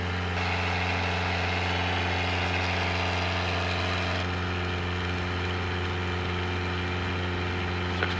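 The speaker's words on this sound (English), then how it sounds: "Full power, engines in the green." Engine of a Cessna 177RG Cardinal at full power on the takeoff roll, heard from inside the cockpit as a loud, steady drone with a strong low hum and no talking.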